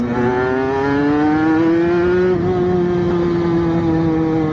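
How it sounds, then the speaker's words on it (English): A 125cc motorbike held at about 8,000 RPM while riding through a residential area, a steady high-pitched engine whine rising slightly in pitch, loud and close with no talking. "Listen to me riding through a residential area at 8k RPM, yobbing around, annoying everyone."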